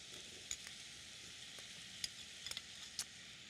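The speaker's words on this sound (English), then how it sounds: "I'm going to add the potatoes" Potatoes go into a pan of spices including turmeric, raising a faint, steady sizzle broken by a few sharp crackles and light stirring clicks.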